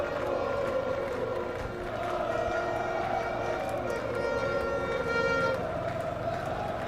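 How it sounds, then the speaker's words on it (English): Crowd at the night-time MotoGP race in Qatar, a broad, sustained roar of cheering with rising and falling tones, loud and continuous with no clear talk over it. "Listen to the crowd."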